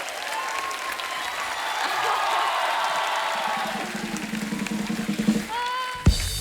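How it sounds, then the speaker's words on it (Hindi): Loud, sustained applause from a crowd at a Cirkus film star cast event, dense clapping with a few cheers and a tonal music sting near the end. "एक बार जोरदार तालियां हो जाए हमारी सर्कस की स्टार कास्ट के लिए।"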